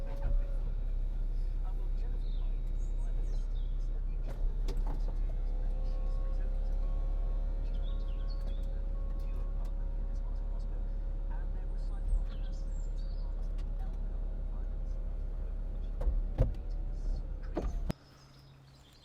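Electrically operated folding roof of a 2006 Mercedes-Benz SLK280 with 7G-Tronic, a steady motor whine running nearly continuously for about seventeen seconds, with a few clunks and latch clicks, stopping abruptly near the end.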